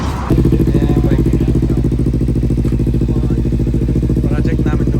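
A Yamaha R7 project motorcycle's engine fires and runs loudly up close with a throbbing, pulsing idle, while someone talks over it.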